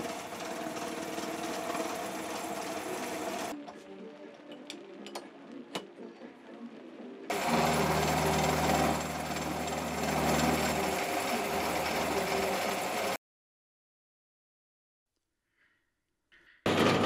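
A ball-ended cutter in a milling machine shaping parts for a model vertical steam engine, giving loud steady machining noise with bursts of cutting and a low motor drone, then a quiet stretch before a brief return.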